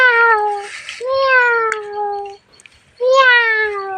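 A child imitates a cat's meow three times: two long drawn-out mews back to back, a pause, then a third rising meow, loud and close.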